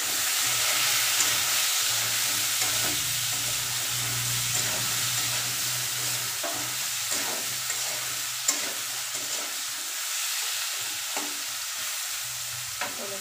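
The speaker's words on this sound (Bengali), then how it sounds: "সবজিটা ভাজা হোক।" Vegetables frying in a pan with a bay leaf, a steady close sizzle with occasional stirring scrapes and clinks.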